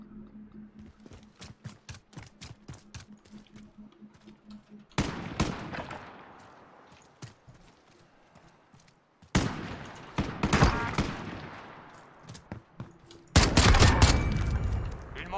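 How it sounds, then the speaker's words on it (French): Bursts of automatic gunfire in Call of Duty Modern Warfare, rapid rattling volleys with loud blasts that build toward the end, dense and continuous through the clip. "J'ai quand même tiré bien à côté, hein."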